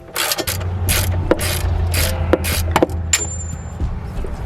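A ratchet works loose a rear shock bolt on a 2006 Acura MDX, rapid bursts of close metallic clicking in uneven strokes with brief pauses, over a low mechanical hum.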